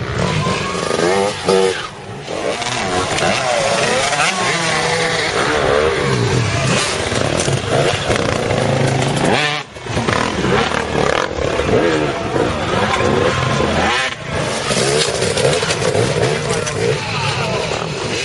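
Yamaha YZ250 dirt bikes racing in an endurocross event, two-stroke engines screaming loud and near almost nonstop, revving up and down with brief dips between bursts of throttle.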